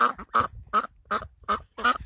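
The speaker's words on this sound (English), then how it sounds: "So in the duck enclosure, we have Poppy right there" A duck in a duck enclosure quacks six times in a steady, evenly spaced rhythm, loud and close with nothing else heard.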